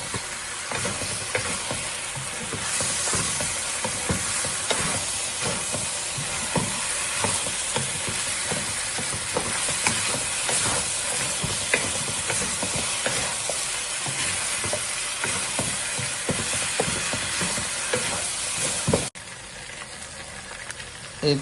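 Ginger garlic paste sizzles and fries steadily in a hot pan while being stirred, a dense continuous crackle with scraping strokes, close and loud throughout, easing slightly near the end.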